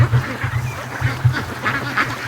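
Flock of over 600 domestic ducks rushing out of their pen in the morning, a loud, continuous chorus of overlapping quacks and squeaky calls close by, with the rhythm of many birds pressing together.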